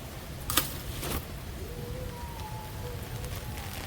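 Light rain drizzling outdoors, a soft, even patter with a couple of brief nearer splashes early on, faint and steady, with a distant high tone drifting in the background.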